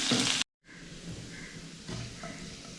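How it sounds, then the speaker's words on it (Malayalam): Steady oil sizzling with a soft crackle as shallots fry in a pan, briefly cutting out before resuming at a moderate level. "അത് നന്നായിട്ടൊന്ന് ഒരു ഗോൾഡൻ കളർ ആവുന്ന വരെ നമുക്കൊന്ന് വറുത്തെടുക്കാം."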